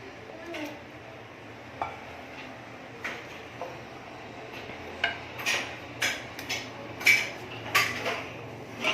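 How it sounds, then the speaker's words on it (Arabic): Utensils clink and scrape against a bowl while spaghetti with seafood and tomato sauce is stirred, giving irregular knocks that grow denser and louder toward the end, with no one talking. "حيتاش غادي نحركهم"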